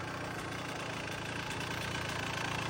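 A Kawasaki KX100 100cc two-stroke dirt bike engine runs after a cold start, giving a steady, even idle with a fast pulsing rhythm. It is fairly quiet and continuous, with no voices.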